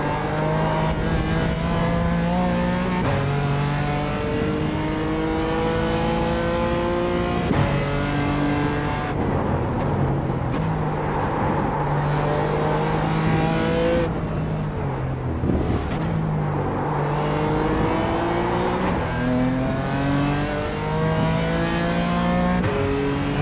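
A race car engine in the iRacing sim revs hard and climbs through gears, with repeated rising pitch sweeps broken by quick upshifts, loud and continuous with no talk.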